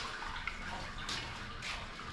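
Liquid poured back into the vessel during all-grain beer brewing, streaming through a wok set on top to catch debris; a steady splashing pour lasts about two seconds with no talking.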